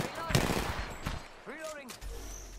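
Gunfire in the video game Apex Legends, rapid bursts of shots crackling near and loud with a voice talking over part of it.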